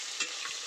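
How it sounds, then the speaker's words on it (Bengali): Bay leaf, onion and green chili sizzle in oil over low heat for khichuri, a soft, brief hiss with a quick stir scraping through it. "প্রথমে তেজপাতা, পেঁয়াজ এবং কাঁচামরিচ দিয়ে তেলে একটু ভেজে নিতে হবে হালকা তাপে"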